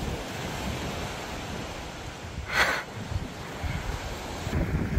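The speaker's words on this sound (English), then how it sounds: "this is how it is from the ocean overlooking the village of Bure, the beach of Bure." Ocean surf washing onto the beach at Bure village, a steady broadband roar of breaking waves mixed with wind buffeting the microphone, with one brief swell of louder hiss near the middle.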